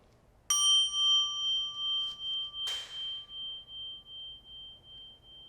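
A metal mindfulness chime is struck once, giving a bright ringing tone. A second, lighter strike follows about two seconds later, and the ring fades slowly into a quiet room.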